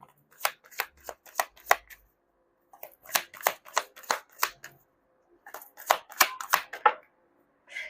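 Tarot cards being shuffled in quick riffling bursts, sharp papery flutters in three clusters separated by brief silences, close and crisp.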